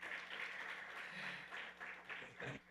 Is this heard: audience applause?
yes